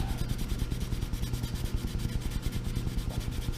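A pen made from HDPE plastic being sanded side to side with sandpaper: a steady, rhythmic rubbing scrape repeating quickly and evenly, close and with no talking.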